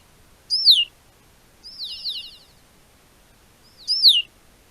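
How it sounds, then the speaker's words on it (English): Three clear, high bird calls stand out against a quiet background: a sharp descending whistle, then a longer buzzy trill, then the whistle again, each spaced about a second and a half apart, as male birds switch to alarm calls at a hawk. "The first male to see the hawk switches to a different call."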